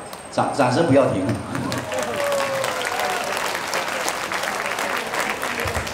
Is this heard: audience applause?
yes